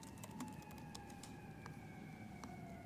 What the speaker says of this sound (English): Just a second, since this siren is right up on us.